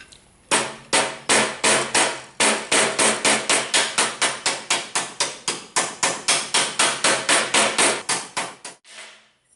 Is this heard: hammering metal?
yes